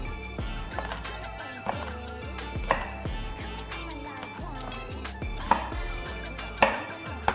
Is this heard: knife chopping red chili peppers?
yes